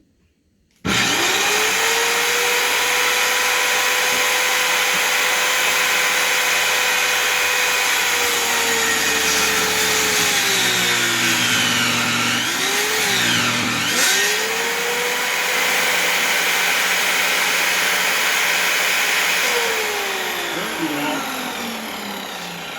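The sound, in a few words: homemade table saw running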